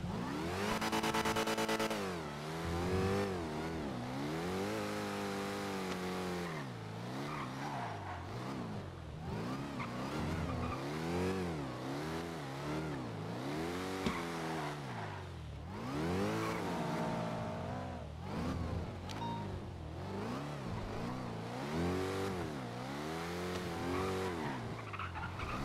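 A loud supercharged car engine in GTA NoPixel revs and surges continuously, its pitch rising and falling with acceleration and gear changes, accompanied by tire squeal, with no talking.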